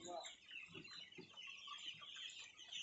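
Broiler chickens clucking in short, uneven bursts close by in a coop with an oil heater, with a steady hum of background noise underneath.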